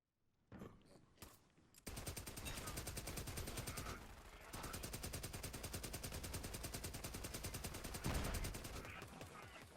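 Atlas pistol gunfire in Borderlands 3, a few separate shots at first and then long bursts of rapid, evenly paced firing that continue almost to the end, with no talk.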